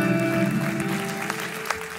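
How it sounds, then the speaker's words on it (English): Congregation clapping hands during a church worship service, a steady close wash of claps over sustained music tones, with a couple of sharper louder claps standing out near the end. "Clap your hands to the Lord."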